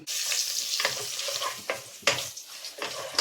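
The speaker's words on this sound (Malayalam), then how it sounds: "ഇനി നല്ലപോലെ നമുക്ക് മിക്സ് ചെയ്യാം" Chili powder and ground garam masala sizzle in a pan while being mixed, the spoon scraping in quick irregular strokes over a close, steady frying hiss.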